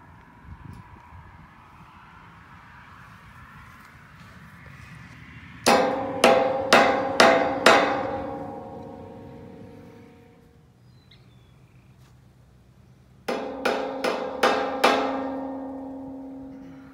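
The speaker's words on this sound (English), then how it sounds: "All we're gonna do is put that fitting there and whack it in" Two bursts of sharp metallic hammer strikes driving a grease fitting into a metal gate, four or five quick ringing blows each, separated by a pause with faint background noise.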